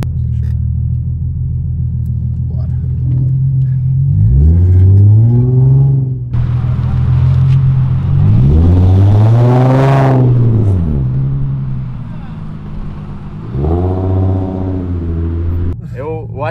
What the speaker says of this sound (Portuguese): Eu acho que o ronco dos V6 é um dos melhores